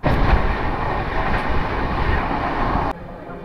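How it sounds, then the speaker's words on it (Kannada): Tirupati SMVT superfast express train passing close by, a loud steady rushing roar of wheels and wind that drops sharply near the end. "Tirupati SMVT super fast express crossing"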